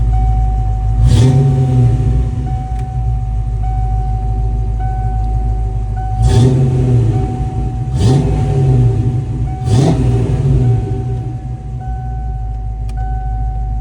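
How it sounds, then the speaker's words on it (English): An original 1987 Ford Mustang GT Fox Body with a 5-liter engine idling with a deep rumble, then revved several times in loud, swelling bursts, heard close with no talking. "Ain't nothing like a 5-liter sound"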